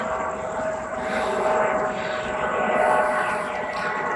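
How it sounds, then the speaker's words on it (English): A helicopter flies over the Las Vegas Strip at night, its steady, fairly loud engine and rotor drone holding with a slight swell and fade, with no talking. "More helicopters"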